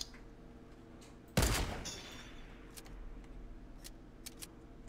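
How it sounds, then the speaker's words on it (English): In the video game Fortnite, a single sharp gunshot cracks out and decays quickly, followed by a few faint clicks against a quiet background. "Where is shooting?"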